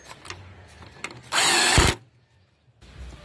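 A power drill runs a bolt down on a 2004 Honda Accord's upper pressurized power steering hose, one loud sustained whir of about half a second after soft handling clatter, then quiet.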